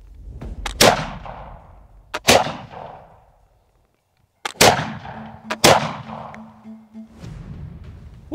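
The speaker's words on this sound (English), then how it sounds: "So you pull the cock fully back. Take aim. Leaning into it. And fire." A Napoleonic-era rifle from Wellington's army is fired, producing several sharp, loud cracks with booming tails, a short silent gap, then more close blasts and rumbling echo.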